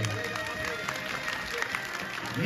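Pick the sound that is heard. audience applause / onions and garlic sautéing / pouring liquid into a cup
audience applause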